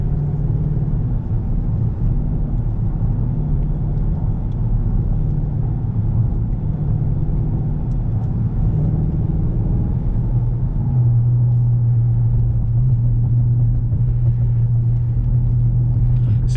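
A Volvo car accelerates while driving, heard from inside as a steady, loud low engine and road rumble whose pitch settles into a firmer hum partway through. No one talks.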